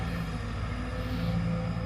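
A Sumitomo SH210F6 excavator with a Japanese engine and pump, digging a farm pond, gives a steady, close low engine drone with a constant humming tone and no pauses.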